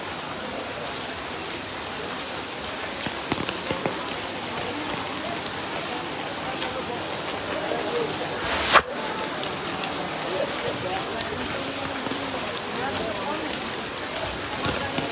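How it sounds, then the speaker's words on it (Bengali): Heavy rain hisses steadily on surfaces at a cattle market in Sylhet, Bangladesh, a dense even downpour, with one sharp knock partway through. "সিলেটের অবস্থা ভালো না অনেক বৃষ্টি হইতেছে এখানে"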